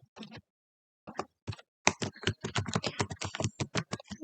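A password is typed on a computer keyboard at a Google sign-in screen: a few isolated keystrokes, a pause, then a fast run of crisp close clicks.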